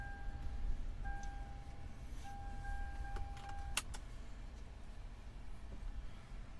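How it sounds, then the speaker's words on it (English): Seatbelt being fastened inside a 2009 Lexus GX470, a soft buckle click near the four-second mark after steady chiming tones, over a quiet cabin hum. "I'm going to go ahead and put my seatbelt on real quick."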